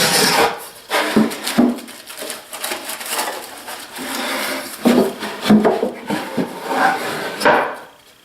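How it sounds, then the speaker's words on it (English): A Skil circular saw and a wrench go into a wooden storage box, giving close, loud wooden knocks, clunks and scraping rubs in an uneven sequence. "let me put this down and drop the saw in here. Put the wrench in."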